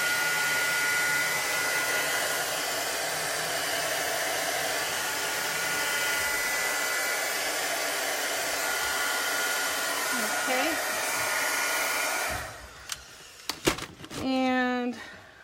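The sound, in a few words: hair dryer drying chalk paste transfer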